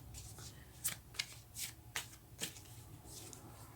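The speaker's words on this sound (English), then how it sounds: "maybe that's why the cards are having a little bit of a hard time shuffling." Tarot cards riffle and snap in a few quick, crisp bursts, fairly close, shuffling with some difficulty, with soft hiss and rustling between them.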